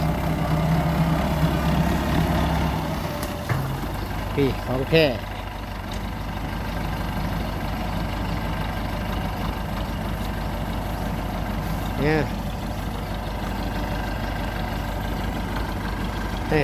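A farm tractor used for plowing rice paddies runs nearby with a steady low idling chug while people talk over it in Thai.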